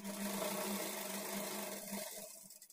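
A sewing machine runs a double stitch along the sleeve seam of a lined blouse, its motor humming steadily and fairly softly for a couple of seconds before winding down.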